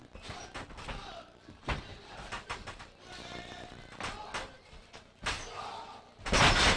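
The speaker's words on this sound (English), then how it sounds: "German suplex there by Fast Eddie." Wrestling bodies slam onto the ring mat during an NWA Wildside hardcore wrestling show, with several loud thuds and impacts spread through the clip and a heavy crash at the end amid crowd and arena noise.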